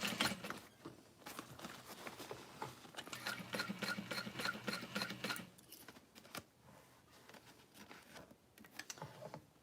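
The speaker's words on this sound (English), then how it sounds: "you want to sew right next to your basting stitch" A sewing machine top stitching a small bag at a long stitch length, a faint, steady mechanical whirring with rapid needle patter that runs for several seconds and then eases off.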